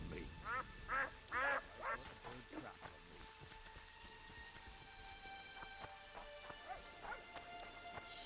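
Steady rain pattering across the ground in the video game Witcher 2, a constant hiss under the whole stretch, with duck-like quacks and a few short vocal calls rising over it early on.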